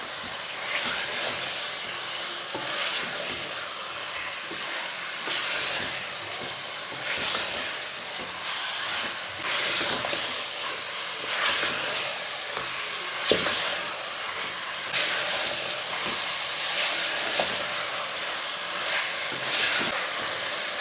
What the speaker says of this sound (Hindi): गोश्त को ना 5 मिनट तक भून लेंगे